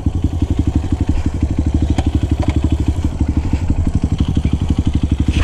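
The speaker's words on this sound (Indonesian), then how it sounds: "knalpot standar kompetisi. Motor gua standar juga." Honda CRF 150 dirt bike fitted with a GP 7 Tekken exhaust, idling close by with a steady, rapid, throbbing exhaust pulse and small blips of revving throughout.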